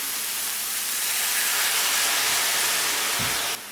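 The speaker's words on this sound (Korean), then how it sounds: "준비한 야채도 센 불에 볶아야 맛있습니다" Vegetables stir-frying over high heat in a home kitchen, a continuous loud hiss that steadies and cuts off near the end, with no voices.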